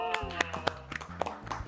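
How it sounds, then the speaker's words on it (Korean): A handful of sharp, distinct hand claps arriving irregularly, fairly close and crisp, with a low sustained tone underneath. "박수!"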